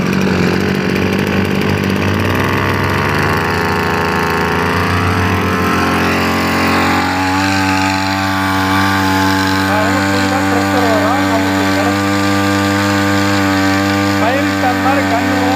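A power sprayer's small engine runs loud and close, a sustained buzzing drone whose pitch shifts partway through as the engine speed changes, with someone talking over it.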